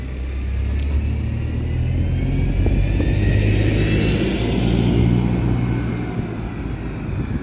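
A bus at Jarrow bus station runs with a steady, loud engine rumble that swells and fades slightly as it moves past nearby, with no speech.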